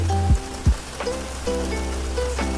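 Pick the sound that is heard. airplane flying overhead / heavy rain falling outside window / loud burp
heavy rain falling outside window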